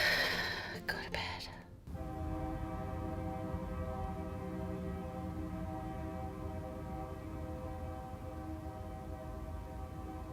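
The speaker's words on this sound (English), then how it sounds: "that train horn keeps going off every time I start to fall asleep" A train horn sounds near a parking lot at night, a long steady tonal blare with stacked harmonics that holds for most of the stretch after a brief burst of rustling at the start, fairly loud and distant-sounding.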